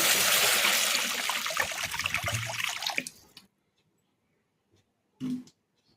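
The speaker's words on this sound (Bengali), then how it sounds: "প্রথমে আমি কড়াতে জল দিয়ে দিলাম" Water pours into a wok in a steady, loud rush that stops abruptly around three seconds in, followed by quiet and a brief clatter near the end.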